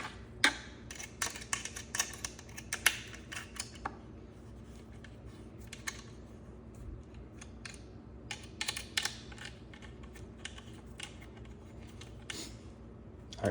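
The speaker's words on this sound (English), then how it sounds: "you could go ahead and screw these button head screws back in with your 1/8 inch Allen key" Button head screws are turned in with a 1/8 inch Allen key during assembly of an Elevate-X arm. Faint, scattered metallic ticks and clicks sound close up against a quiet room hum, with no talking.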